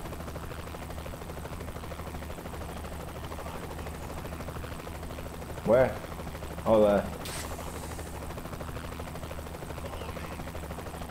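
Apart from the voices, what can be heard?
helicopter flying overhead in the video game Saints Row: The Third Remastered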